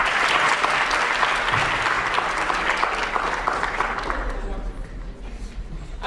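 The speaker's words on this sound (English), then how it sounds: "let's give them a round of applause for all their hard work." An audience at a student union poetry slam bursts into dense, sustained applause that fills the room for several seconds before thinning slightly toward the end.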